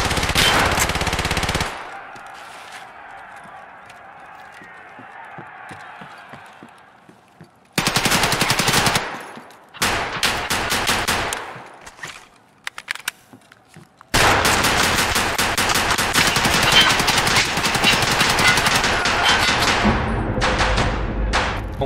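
Automatic gunfire from Escape from Tarkov Arena comes in loud, dense bursts of rapid shots, separated by quieter stretches with scattered single shots and thuds.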